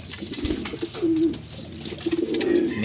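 Young racing pigeon, 19 days old, cooing in a loft: soft low throaty coos in short bursts, close and fairly loud, with brief pauses between phrases and no talk.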